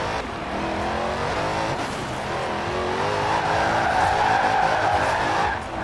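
A 1969 Dodge Charger R/T drifting in Forza Horizon 4, with a continuous loud tire squeal layered over a steady engine roar for several seconds.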